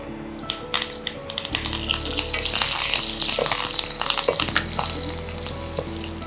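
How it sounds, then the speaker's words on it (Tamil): Mustard seeds, seeded dried red chilies and a sprig of curry leaves fry in hot oil, giving a steady close sizzle with crackles and occasional clinks of stirring. "கடுகு பொரிஞ்சதும் விதைகள் நீக்கிய வரமிளகாய் சேர்த்துக்கலாம்."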